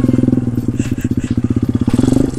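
Small pit bike engine pulsing steadily and loudly nearby during slow wheelies, its rapid firing beat holding at low revs across the whole stretch.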